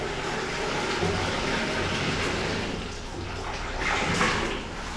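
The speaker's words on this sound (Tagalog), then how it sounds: "Ayan ang tubig, malakas na." Strong water flow from a shower after a water pressure fix, a steady broadband rush and hiss that swells and dips slightly, moderately close, with no voices.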